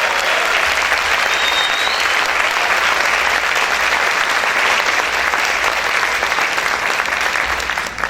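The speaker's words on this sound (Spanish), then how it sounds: "Dale ese fuerte aplauso al Señor" A church congregation gives the Lord a loud, sustained round of applause during a sermon. The dense clapping fills the hall evenly and close for the whole stretch, with no voice rising above it.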